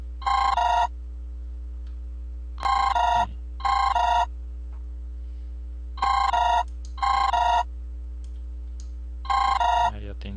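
Incoming-call ringtone on an Android emulator, a repeated electronic trill in six short bursts separated by pauses, steady and clear over a low background hum.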